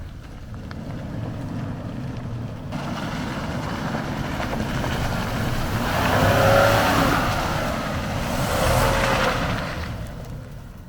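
A Lexus GX460 and a Land Rover LR3 climb a muddy hill under heavy throttle, their engines roaring steadily and swelling louder in the middle and again near the end, with some wind noise and no talk.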